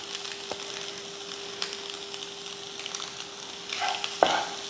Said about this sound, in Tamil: இந்த மாதிரி லைட்டாக அப்படி கிளறி விட்டால் போதும்